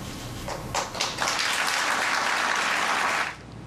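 A crowd bursts into applause during Obama's budget speech, scattered claps building within a second into sustained, dense clapping that holds for about two seconds before cutting off.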